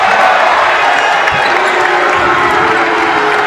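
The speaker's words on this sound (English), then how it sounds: "Oh, the crowd loves that." A college basketball crowd roars and applauds steadily after a made three-pointer, a loud, sustained cheer filling the gym with a bouncing ball faintly underneath.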